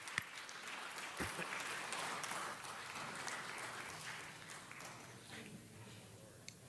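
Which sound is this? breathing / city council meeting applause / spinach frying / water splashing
city council meeting applause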